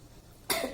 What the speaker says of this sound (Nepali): सरी अलि मलाई खोकी लाग्छ है।